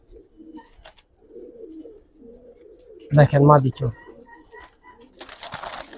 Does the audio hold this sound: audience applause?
no